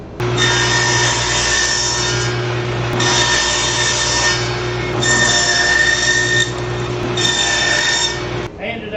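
A power saw cuts wood boards set against a fence stop block in a workshop, making four loud, separate whining cuts with short pauses between them over a low steady motor hum.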